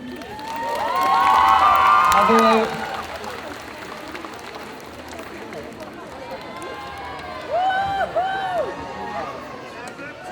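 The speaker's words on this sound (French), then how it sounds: "un tonnerre d'applaudissements pour Trouble Identity" Audience at a group cosplay contest bursts into loud cheering, shouting and applause, peaking in the first few seconds then settling into steady crowd noise with a brief swell near the end, while an announcer speaks over it.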